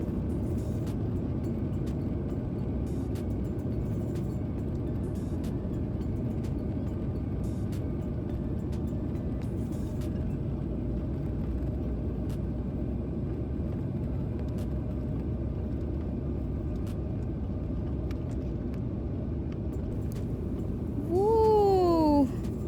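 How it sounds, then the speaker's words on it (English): From inside the cabin, an airliner takes off from Mumbai bound for Hong Kong as a constant deep roar and rumble. A short rising and falling tone sounds near the end. "So finally, we are taking off from the Mumbai to Hong Kong."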